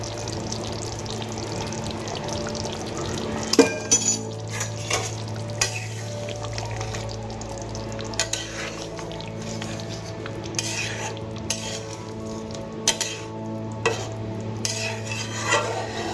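Ghee and garam masala are stirred into a sizzling katla fish kalia curry. A steady, close frying sizzle runs throughout, with a spoon scraping and clinking against the pan at irregular moments.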